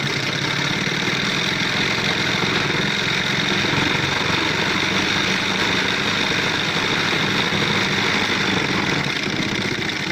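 Motorized sewing machine running steadily while stitching the leg seam of a gents shirt, a continuous loud mechanical whir and hum with dense rapid stitching vibration throughout, no voices.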